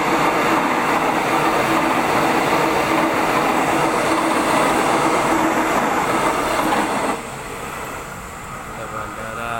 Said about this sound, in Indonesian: Ya, kereta bandara.